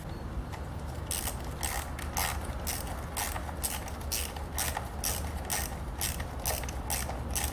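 A motorcycle clutch cable worked back through its mechanism gives steady repeated clicking and ratcheting, close and mid-level, in an even rhythm throughout.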